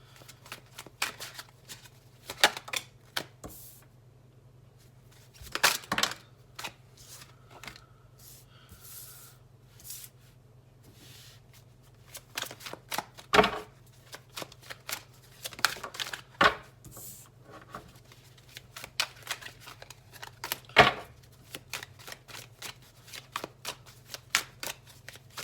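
Tarot cards are shuffled in repeated quick riffling bursts, close and crisp, separated by short quiet pauses across the whole stretch.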